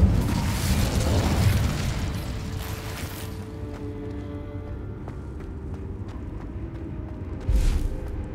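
An Incendio fire spell from Hogwarts Legacy lets off a loud, booming blast that fades into a low rumbling tail. A second short burst hits near the end.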